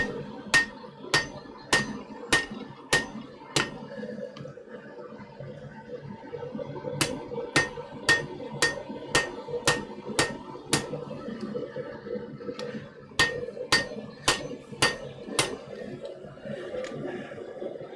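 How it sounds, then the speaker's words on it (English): A blacksmith's hammer rings sharply on an anvil in a smithy, striking half on and half off the near side of the anvil. About twenty evenly spaced, bright blows fall in three bursts, close and loud, over a low background rumble. "I'm doing half on, half off blows on the near side of my anvil."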